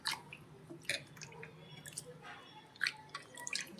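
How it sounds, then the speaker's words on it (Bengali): Mango and yogurt mixture for aam doi is squished and mashed by hand, giving faint wet squelches and drips scattered irregularly, close and quiet. "আমি হাতে করেই চটকে নিই।"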